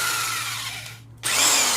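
A power drill whirs loudly and steadily, cuts out for a moment, then starts up again at full speed.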